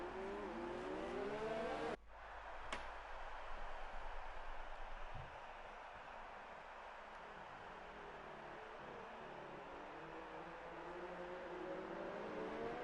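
Race cars on a formation lap of the Canadian Grand Prix in an F2 racing video game, a continuous whining engine drone with shifting pitch from several cars, steady and fairly loud, with no voices.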